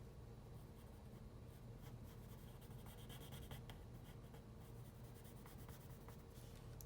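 A pencil scratches steadily across paper, drawing with continuous soft rubbing strokes and faint ticks, close and quiet with no voices.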